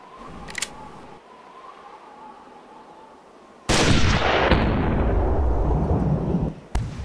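A hunting rifle fires a single loud shot in the Hunting Unlimited 2011 video game. The sharp crack rings out with a long fading tail, follows a faint click, and a second brief report comes near the end.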